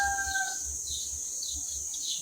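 Rooster crowing, drawn-out calls rising and falling over a steady high-pitched hiss of background noise, with no talking.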